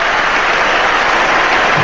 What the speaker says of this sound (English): gets a warm round of applause